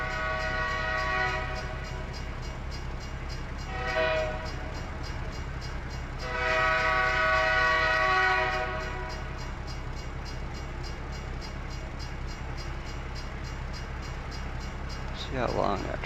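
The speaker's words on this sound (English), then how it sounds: "I'm gonna stay here and watch the train go through" A train rolls through a crossing in a truck driving game with a Kenworth W900, its horn sounding in several long tonal blasts over a steady rumble of rail cars, with someone talking at times.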